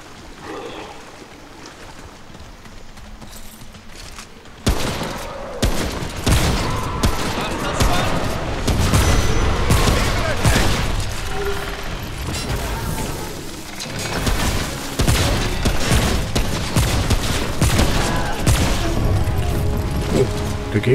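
Gunfire from shooting in Remnant: From the Ashes, quieter at first and then loud repeated shots and bursts from about a third of the way in, continuing steadily with speech heard over the fighting.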